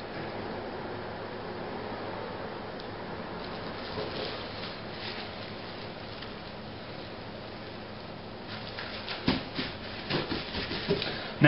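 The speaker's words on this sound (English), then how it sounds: "put it between two sheets of plastic wrap, and pound on it with a mallet till it's about a 1/4 inch thick" A mallet pounds chicken breast sandwiched between two sheets of plastic wrap for stuffed chicken, a continuous crinkly rubbing and soft thudding that grows into sharper, louder knocks near the end, with no talking.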